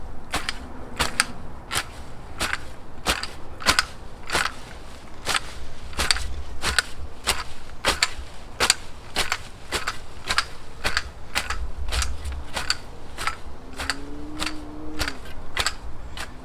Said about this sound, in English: But this here material we'll cut right here at the base.